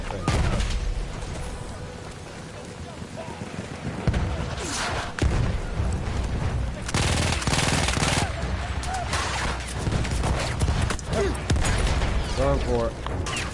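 Battlefield 1 combat at an Italian fort, with machine-gun bursts, rifle shots and heavy booms hammering in waves over more than thirteen seconds, loud and near, with voices shouting amid the battle.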